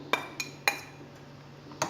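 Palak paneer being stirred in a dish for the microwave gives a few light clinks of a utensil against the dish at an uneven rhythm. The clinks are near but quiet, with no talking.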